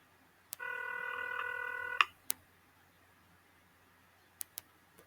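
A short series of telephone keypad tones in the X-Files PC game plays for about a second and a half, followed by a click and a few sharp ticks in quiet.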